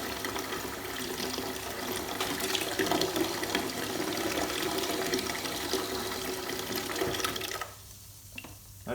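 A steady stream of water pours and splashes continuously from a drinks dispenser line, then cuts off abruptly near the end, leaving a quieter room with a couple of faint clicks.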